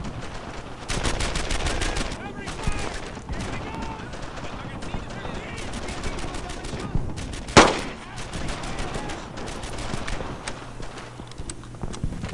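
Dense gunfire rattles through a World War II battle in the video game Brothers in Arms: Earned in Blood, with continuous rapid bursts and one louder crack near the middle while voices talk over the din.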